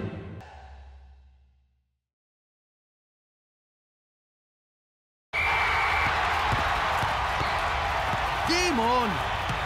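Loud, constant roar of a home stadium crowd at a cartoon soccer match, cutting in abruptly after a short burst of noise and a long silence, with a whistle-like tone and sliding cartoon sound effects on top.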